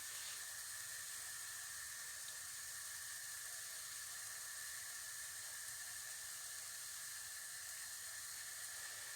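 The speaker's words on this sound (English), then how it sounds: "Here's some good sizzling noise." Welsh cakes sizzling on a hot griddle, a soft steady hiss that carries on evenly and quietly with no voices over it.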